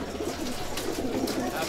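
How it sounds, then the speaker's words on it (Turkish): Pigeons coo softly in a dense, overlapping murmur, a flock close by with a faint voice mixed in. "Burada 800 tane kuş var."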